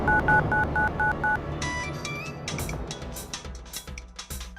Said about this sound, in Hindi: अरे किसका मोबाइल टनटना रहा है?